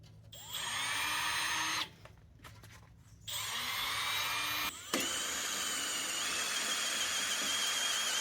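A power drill bores holes in the steel frame of a utility trailer, with a steady, fairly quiet whine broken by a few short pauses and restarts.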